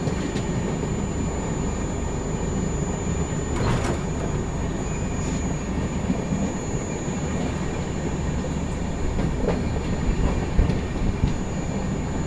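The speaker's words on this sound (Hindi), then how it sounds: "ये हम स्किप कर रहे हैं बाद स्टेशन को और ओवरटेक कर रहे हैं श्रीधाम सुपरफास्ट एक्सप्रेस" Delhi–Chennai Rajdhani Express rumbling steadily along the rails at speed past Mathura while overtaking another superfast express, a continuous loud roar with a faint high whine and brief clanks, no voices.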